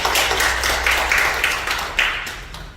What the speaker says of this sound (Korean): 우리 환영의 박수 한번